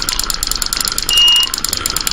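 Electronic bite alarm beeping in Carp Fishing Simulator, a rapid run of repeated high tones over a steady game background, with one longer sustained tone partway through.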